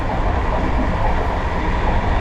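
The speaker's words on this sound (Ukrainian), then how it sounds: "Так, ось і мій поїзд." An Intercity passenger train runs close by with a dense, continuous roar of wheels on rails and a faint clickety-clack, loud and steady throughout.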